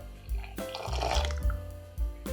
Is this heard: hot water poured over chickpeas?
yes